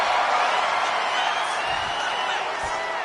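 Dense crowd roar at a televised wrestling show in WWE 2K26, during a women's match on Monday Night Raw, holding a steady, loud wash of cheering for the whole stretch with no clear peaks.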